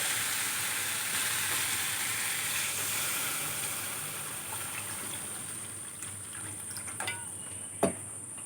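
Water poured into hot masala in a pan for a hilsa fish curry with taro, potato and eggplant gives a faint, broad sizzling hiss that gradually eases, with a couple of light utensil clinks near the end.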